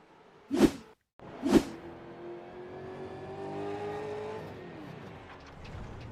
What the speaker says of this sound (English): And in a Gen 3 V8 supercar too, mind you, as we just pick up on that car